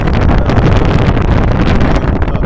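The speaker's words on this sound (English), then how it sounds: "I don't know how this video is going to turn out, but it's windy out here" Strong outdoor wind batters the microphone in a loud, constant roaring buffet with no pauses and no voices.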